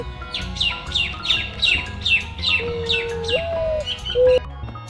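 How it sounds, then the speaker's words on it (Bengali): A dove calling from a tree gives a run of about eight bright, regular chirping calls, with a few lower sustained tonal notes toward the end. Faint background hum sits underneath and no one speaks. "ঘতে ঘুঘু পাখি ডাকছে গাছে।"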